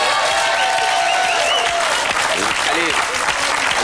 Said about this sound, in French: c'est une première mondiale, on peut l'applaudir.